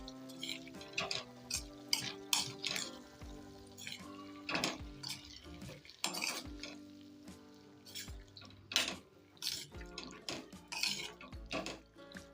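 Chillies with split mustard seeds being stirred and mixed in a pan with the heat switched off, giving repeated clinks and scrapes of a spoon against the metal in an irregular rhythm, close and fairly quiet, with no talking.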